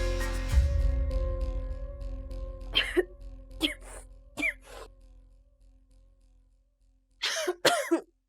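A person coughs several times indoors: a short low hum first, then a few sharp separated coughs, a pause, and a final harsh double burst, close and clear.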